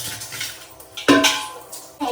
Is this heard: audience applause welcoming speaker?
no